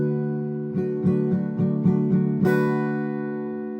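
G-like guitar chord shaped 3-2-0-0-0-0, ringing from an earlier strum and then picked or strummed about six times in even succession, with a brighter final stroke left to ring out, close with no voices.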